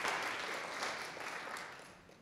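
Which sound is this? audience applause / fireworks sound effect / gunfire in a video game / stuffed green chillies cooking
audience applause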